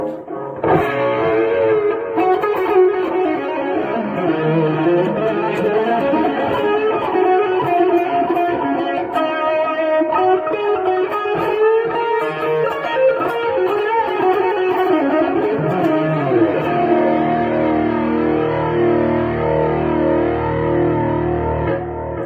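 Electric guitar played through a SONICAKE multi-effects pedal, distorted and drenched in delay and reverb, with chords and notes ringing out continuously and loudly throughout.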